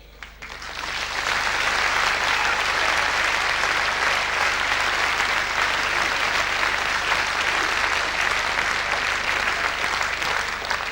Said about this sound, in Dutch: En geef ze daar nog hun verdiende applaus aan Herman Klausboom.